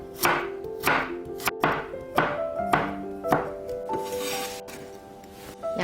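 Knife julienning carrot on a cutting board, a regular series of about ten close, crisp chopping strikes with short pauses between them.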